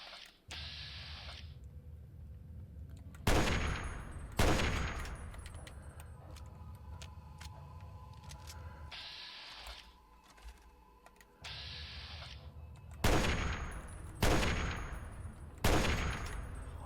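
Reservist rifle gunfire rings out in Fallout 3, several loud, sharp bursts of shots spaced irregularly across a quieter game background.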